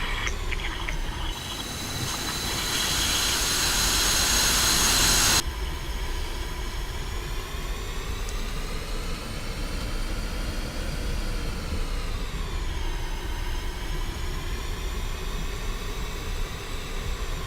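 F-18 jet engines roar steadily at an airfield in the DCS flight simulator game, a loud broadband rush that bursts louder for a few seconds early on, then settles into a sustained whine with slowly rising and falling tones.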